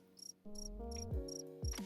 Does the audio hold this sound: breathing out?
no